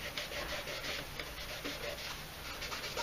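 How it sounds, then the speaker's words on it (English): Dried paint rubbed off a Vaseline-coated surface on model clone armour, giving a soft, steady scratchy rasp that runs continuously and quietly up close. "Now what I'm going to do is I'll show you what happens when you rub off the Vaseline."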